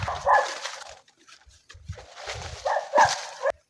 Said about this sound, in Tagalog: Aso na naman. Patigil ang aso.